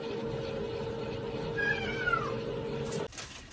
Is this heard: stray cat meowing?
yes